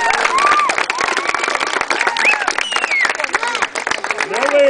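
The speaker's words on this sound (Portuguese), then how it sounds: "Uma salva de palmas ao Senhor Jesus." Crowd applause at an outdoor baptism ceremony on a country estate, sustained clapping for the full stretch with voices and cheers mixed in.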